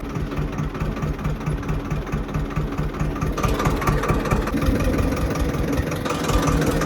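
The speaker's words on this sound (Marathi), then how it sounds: "ट्रॅक्टरने तिकडं वडून घेऊन येऊ डायरेक्ट" Tractor engine running steadily at idle before towing a fallen tamarind tree, a continuous mid-pitched rumbling chug, close and loud throughout with no talk.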